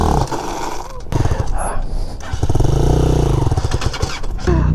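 A Hawk 250 Chinese motorcycle engine revs and idles close by, rising into a throaty roar, with people talking over it at moments.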